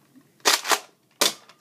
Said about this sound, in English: I just love that sound, of, like, priming it over and over